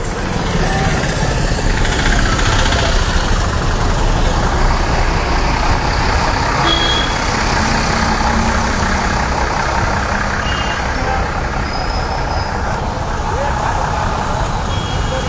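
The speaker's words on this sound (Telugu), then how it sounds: "ప్రస్తుతం రేవేంద్రపాడు దగ్గర ట్రాఫిక్ చూస్తున్నాము" Dense road traffic near Revendrapadu, including a truck reversing, makes a loud, unbroken roar of engines that fills the whole stretch, with faint high beeping tones scattered through it.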